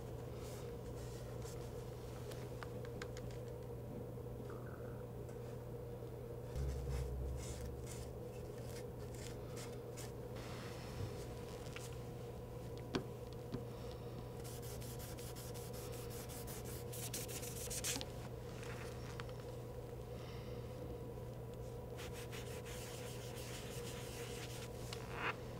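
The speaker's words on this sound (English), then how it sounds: "carefully remove the thermal grease from the heatsink and the processors" An alcohol swab rubs and wipes thermal grease off an HP Pavilion all-in-one desktop's heatsink and processors, a soft, steady scrubbing friction that runs close and continuous over a low hum, with a few faint clicks.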